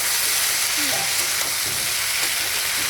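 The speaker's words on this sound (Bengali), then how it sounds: "আর একটুখানি হবে শাপলা ভাজা" Water lily stems fry in a pan with green chillies and dried red chillies, giving a steady, even crackling hiss close by for about three seconds, with no one speaking.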